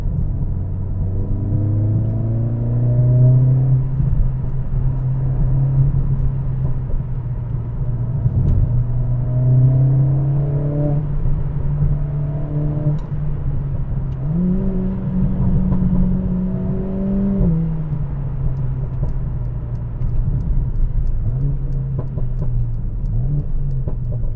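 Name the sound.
Mercedes CLA45 car with new exhaust accelerating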